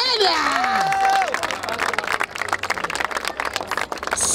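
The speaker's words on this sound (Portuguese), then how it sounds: "dá palmas pra essa batalha" Crowd at a trap rap battle in Barueri clapping and shouting after a round, rising voices and whoops giving way to scattered rapid claps and cheering.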